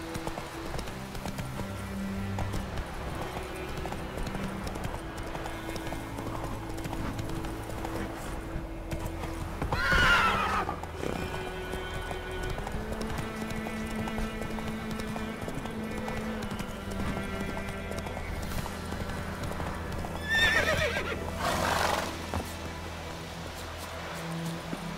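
In Witcher 3 a horse gallops with a continuous, rhythmic clip-clop of hooves over game music, and two louder whinnies break in partway through.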